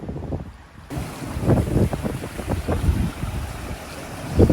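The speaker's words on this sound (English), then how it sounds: "It's got a barrier around it to keep the wind, but it's still pretty windy up here." Strong wind gusts and buffets across an outdoor rooftop pool behind a wind barrier, a continuous loud rushing roar with rumbling microphone noise throughout.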